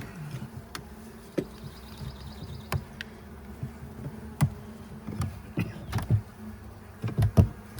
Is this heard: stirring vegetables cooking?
no